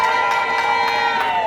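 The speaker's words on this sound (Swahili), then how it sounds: "Piga makofi kwa wanawake." A crowd at a women's empowerment gathering cheering and clapping for the women, a loud sustained roar of voices and claps with sharp bursts.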